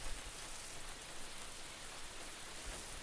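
Steady rain pours down in a close, continuous hiss, drops splashing into puddles without a break.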